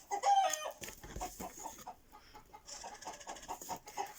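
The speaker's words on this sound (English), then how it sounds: "can you hear the chickens outside?" Chickens cluck and a rooster crows in the distance, with scattered bird calls and faint rustling nearby.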